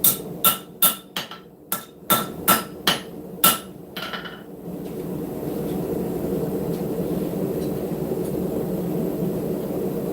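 Steel hammer planishing a forged camp knife blade: about nine sharp, ringing blows in an uneven rhythm, followed by a steady broad roar like a forge blower or fan once the strikes stop.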